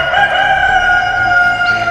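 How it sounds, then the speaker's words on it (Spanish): A rooster crows one long, sustained, loud call with steady tone, close and alone with no talk. "Y el gallo cantó."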